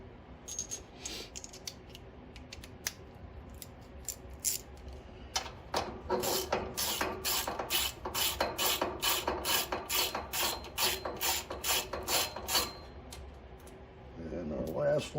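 Screws being backed out of the back plate on a Firman dual fuel 7500 watt generator to reach the gasoline carburetor: a quick run of sharp ratcheting clicks, close and fairly loud, with quieter handling noises before and after.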